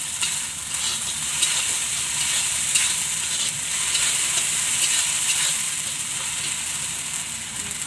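Spices and potatoes for a banana stem curry sizzle and fry in a pan with steady hissing and occasional stirring scrapes, close and continuous.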